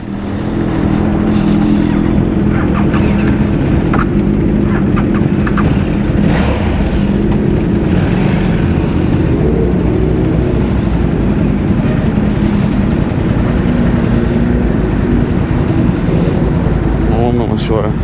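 A KTM RC8R superbike rides on the road, its engine a loud, close, continuous roar mixed with heavy wind buffeting, with occasional speech underneath.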